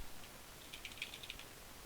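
Faint computer keyboard typing, a quick run of soft clicking keystrokes in the middle of an otherwise quiet room.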